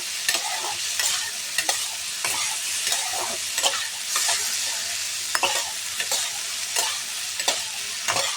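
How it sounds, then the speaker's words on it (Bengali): Ridge gourd and potato curry sautéing in a pan, a steady sizzle with repeated spatula scrapes and stirring clatter at a regular pace, close and fairly loud, no talking. "এইভাবে আর একটু সময় কষাতে থাকবো"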